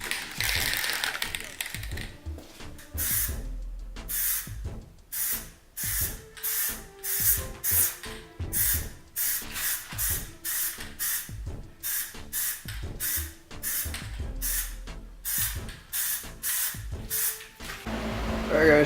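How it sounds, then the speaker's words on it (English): An aerosol can of PlastiDip sprays a coat onto Lexus car rims in repeated bursts, each hiss starting and stopping in a steady rhythm with brief pauses between, close and fairly loud. "they say to spray light coat first"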